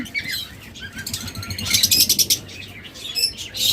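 Budgerigars and lovebirds of local breed kept together for sale, chirping in quick overlapping bursts of high tweets, with fluttering wings and scrabbling, close and lively.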